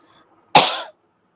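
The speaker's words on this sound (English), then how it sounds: "Sorry, I have some cough issues." A single sharp cough, close and fairly loud, after a brief near-silent pause.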